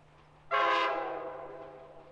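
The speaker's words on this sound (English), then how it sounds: "the Via Rail passenger train heads northbound towards Courtney" A Via Rail passenger train heading northbound through Union Bay toward Courtenay sounds a loud, sustained horn blast that starts abruptly and slowly fades over about a second and a half, with no other sounds around it.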